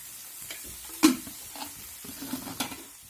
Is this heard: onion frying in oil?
yes